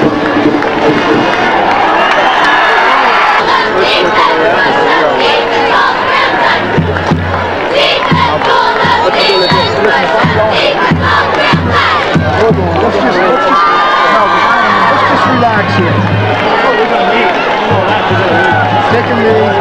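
A crowd cheers and shouts at a 2002 high school varsity football game between Northern Lehigh and Pen Argyl, a loud sustained roar with yells rising and falling, and voices calling out nearby.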